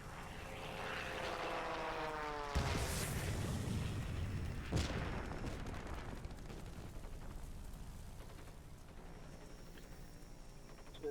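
Bombs exploding in the World of Warplanes air combat game, heard as two heavy booms a couple of seconds apart over the steady, droning propeller engines of an American Lockheed XP-58 Chain Lightning fighter. No talking.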